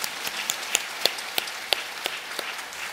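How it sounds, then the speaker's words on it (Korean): Church congregation applauding in encouragement during a Sunday sermon, a moderate spread of clapping with a few sharper individual claps standing out, somewhat distant and fairly soft. "우리 그분들에게 좀 박수로 좀 격려해 주시겠습니다"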